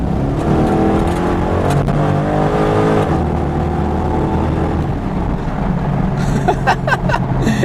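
A modified Corvette C5 accelerates hard under boost, its engine note loud and continuous with rising harmonics, then a sharp gear shift near 6,500 RPM partway through before it pulls on; a few brief high chirps appear near the end.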